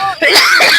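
A person sneezes inside a car, one short loud burst that fills the clip, close and followed by a breathy tail.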